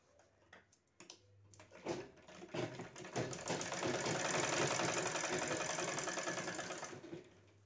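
Sewing machine stitching a simple box bag, starting with short stop-start bursts of rapid ticking, then running in one long continuous whirring stitch before slowing to a stop; fairly quiet and close.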